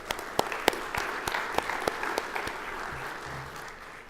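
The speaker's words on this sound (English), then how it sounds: "if we can have a brief round of applause for our panelists." An audience gives a brief round of applause for panelists at a conference session on civilian oversight of law enforcement, scattered sharp claps over a dense steady clatter, moderately distant and fading slightly toward the end.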